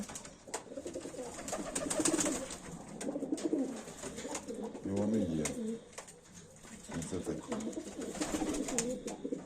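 Broad-tailed fighting pigeons coo in a loft, rolling low calls repeating through the stretch, close and loud, with someone speaking briefly between them.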